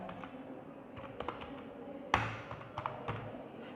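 Quiet, uneven keystrokes on a computer keyboard while entering data in Excel, with a few sharper taps standing out over a faint background hum.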